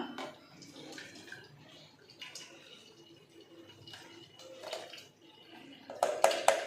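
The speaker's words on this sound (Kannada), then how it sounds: "ಫಿಲ್ಟ್ರ್ ಮಾಡ್ಕೊಂಡಿದ್ದೀನಿ" Finely ground curry leaves blended with water are strained, giving a quiet trickling and dripping of liquid that swells into louder splashes and pours near the end.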